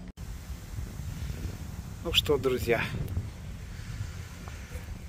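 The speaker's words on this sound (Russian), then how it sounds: "все, ветер продолжается и будет продолжаться еще долго." Wind blowing outdoors over a garden in early winter, heard as a steady, rumbling low roar buffeting the microphone throughout, with someone speaking briefly partway through.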